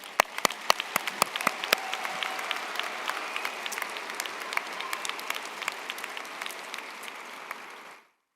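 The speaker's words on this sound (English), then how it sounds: "We should have one big round of applause for the graduates" A large commencement crowd honoring the graduating class of 2022 bursts into steady, dense applause, many hands clapping at once for several seconds before it cuts off abruptly.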